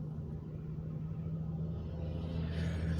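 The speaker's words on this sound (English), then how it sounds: "I'm standing in this traffic right now" Steady low rumble of road traffic heard from inside a car stopped in traffic headed toward Interstate 95, a constant engine and tire drone with a slight rise near the end and no talking.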